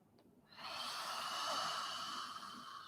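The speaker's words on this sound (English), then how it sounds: "Big breaths. Long inhales, long exhales." Deep, slow breathing during an upper-body exercise session: one long, airy exhale swells up after a brief quiet start and trails off gradually, close and steady, with no talking.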